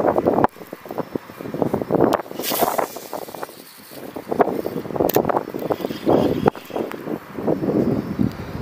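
Strong gusting wind from storm Ciaran buffets the microphone at a fishing spot in Charleroi, with irregular rushing bursts and roaring surges throughout, close and loud, no one speaking.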